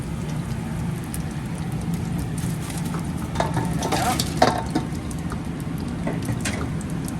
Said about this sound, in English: So you just kind of fry them till they're like this golden brownish.